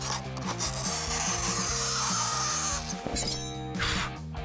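A claw saws through a cardboard box with loud, rhythmic rasping strokes, a steady back-and-forth scraping that continues through the whole stretch.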